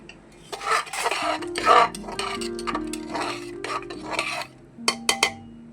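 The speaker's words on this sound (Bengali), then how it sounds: "সাম্বার ডালের ঢাকনাটা খুলে একটু দেখে নেব।" A metal lid comes off a pot of sambar dal with close clinks and scraping clatters, ending in a few sharp metallic knocks, and no one speaks.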